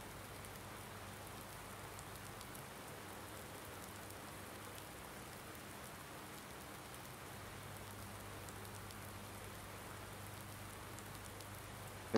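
Rain falls in the farming video game Farming Simulator 19, a soft, even hiss of steady rainfall that stays constant throughout at low volume with no speech.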